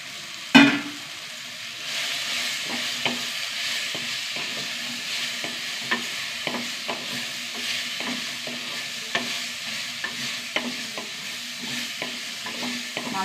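Long-sliced ivy gourd being stirred in a pan with browned onion and ginger, a soft continuous sizzle broken by regular spoon scrapes and taps against the pan, close and moderately quiet, with no talking.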